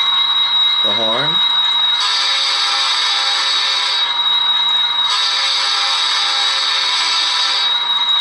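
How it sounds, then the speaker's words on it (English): A Rapido Metra F59PH model locomotive sounds its horn in two long, loud blasts of about two seconds each, separated by a short pause, over a steady diesel idle, with a brief spoken word just before. "The horn."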